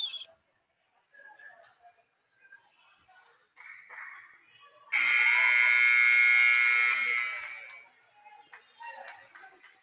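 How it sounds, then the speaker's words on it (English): A loud electronic buzzer blares for about two seconds in a college volleyball gym during a substitution, standing out sharply above quieter crowd and court sounds before and after. "I don't know if you guys can hear that buzzer,"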